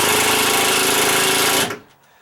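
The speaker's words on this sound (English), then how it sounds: "This ratcheted drill, you gotta get one of these." A ratcheting power drill whirs loudly and steadily up close for under two seconds during deck stair stringer repair, then abruptly stops, leaving near silence.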